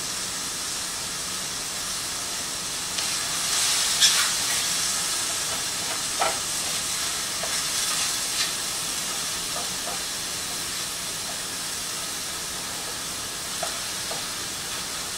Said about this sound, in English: So my mushrooms are browning.